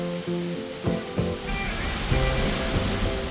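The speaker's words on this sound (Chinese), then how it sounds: "近距离观看这个瀑布真的非常震撼" Waterfall in southern Iceland heard from close range, a steady broadband roar of falling water with tonal backing music laid over it throughout.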